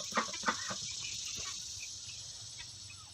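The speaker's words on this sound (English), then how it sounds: "She's a good turkey." A pet turkey on a small farm gives a few soft, close clucks and short gobbling calls at the start, followed by faint scattered clucks over a steady background hiss.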